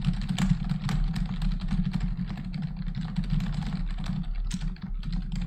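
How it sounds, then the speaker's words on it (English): A computer keyboard is hammered with rapid, hard keystrokes during a game session, a dense, continuous clatter of close, loud clicks with no pauses and a low background hum beneath. "I'm gonna slam against the keyboard."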